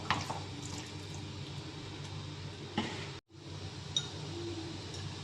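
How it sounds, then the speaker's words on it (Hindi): Vinegar poured into a pan for homemade sweet chili sauce made with crushed red chili, a faint, steady liquid trickle with a few soft drips and a brief break near the end. "1/4 कप हम इसमें डालेंगे सिरका।"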